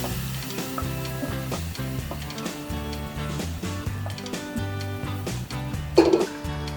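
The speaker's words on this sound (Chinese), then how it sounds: "然后把姜汁倒入" Ginger juice is poured into sesame oil with basil in a ceramic or clay pot for three-cup prawns, and it sizzles steadily at moderate level under background music, with a brief louder burst near the end.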